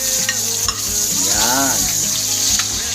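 Garlic, onion and tomato sauté in a hot pan for pork giniling, a loud continuous sizzle with occasional stirring scrapes close up.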